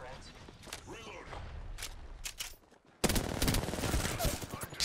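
Gunfire in the battle royale shooter Apex Legends: scattered sharp shots and rapid bursts, growing louder and denser after a brief lull, with talk and game sounds mixed in.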